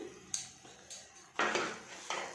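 Almond powder is stirred into fried edible gum in a pan for gundar pak. A spoon makes four distinct scraping, clattering strokes against the metal, close and fairly loud, with no talking.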